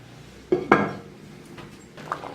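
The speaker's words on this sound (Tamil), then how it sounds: "நம்ம மூடி போட்டு மூடிடலாம்." A metal lid goes onto a pot of drumstick sambar with two quick, close clanks of metal on metal, followed by a faint rattle as it settles.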